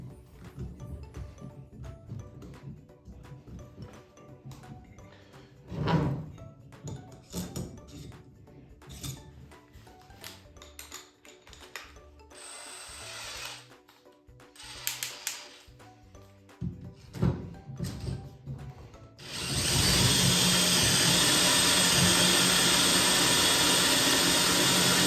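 A drill boring out a worn valve guide in an old hit-and-miss engine cylinder head, ahead of fitting bronze guide liners. Scattered clinks and intermittent cutting noise give way to a loud, steady whirring grind near the end, with no talk.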